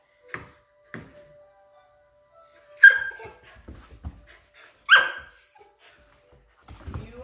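An overtired puppy whines and gives a few short yelps and barks in scattered bursts, close by, with quiet gaps between them.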